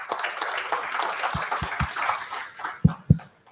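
A summit audience gives brief, scattered applause that thins out, ending in a few isolated claps before silence.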